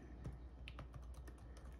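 Quiet typing on a Lenovo ThinkPad P52 laptop keyboard, a short run of soft irregular key clicks close up under faint background hiss.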